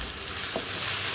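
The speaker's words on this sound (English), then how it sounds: "Just stir that through." Browned mince with passata is stirred in a pan over low to medium heat, giving a brief, even, close sizzle and a soft scrape, with no voices.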